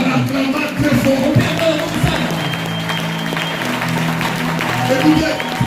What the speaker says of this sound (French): En acclamant très fort.